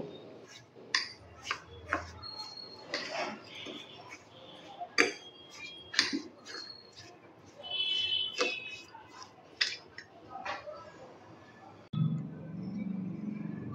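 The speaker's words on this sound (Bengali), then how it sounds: "খুব ভালো করে এগুলোকে আমি একটু মিলিয়ে নেব।" Semolina and other ingredients mixed in a bowl for chana pora mishti, spaced clinks and taps of a utensil against the bowl with faint rubbing, under a voice speaking.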